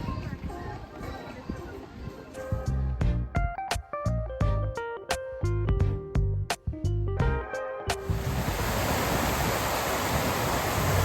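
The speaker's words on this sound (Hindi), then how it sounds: "पानी छींटे आ रही हैं।" A burst of fountain water sprays and splashes loudly nearby in Azerbaijan, a steady broadband hiss that follows tinkling music and chatter.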